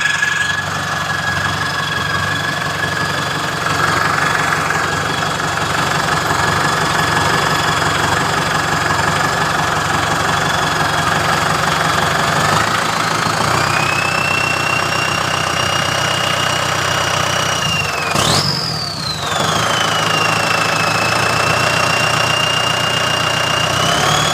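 A Kubota tractor engine idles throughout with a constant low rumble, joined near the end by a rising and falling whine as revs shift; no voices.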